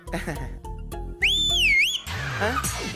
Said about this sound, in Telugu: అదేంటి సార్, విజిల్ స్టార్ట్ వస్తుందా?